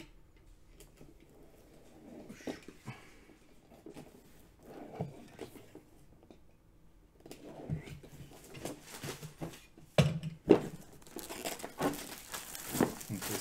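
A Blood Bowl board game box, second season edition, is opened, with irregular plastic and cardboard crinkling, rustling and small taps close by, quiet at first and growing busier and louder toward the end.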